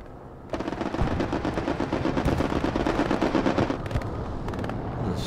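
Rapid strafing gunfire in an online multiplayer war video game match on the map Foy, sustained bursts of loud, dense automatic fire that run for several seconds and then break into a few shorter volleys.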